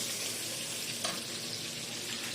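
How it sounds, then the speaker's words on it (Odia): Onions sizzling in hot oil in a pan, a steady, fairly quiet frying hiss with a brief stir or clatter partway through. "ଏବେ ପିଆଜ ପଡ଼ିବ।"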